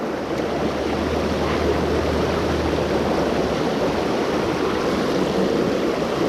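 Water from a waterfall and stream on Wolf Creek in Vogel State Park rushes in a steady, broadband roar. It is loud and continuous, with no voices.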